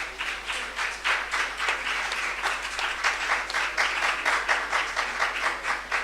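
Church congregation applauding during a service, steady rhythmic clapping throughout, fairly loud and close.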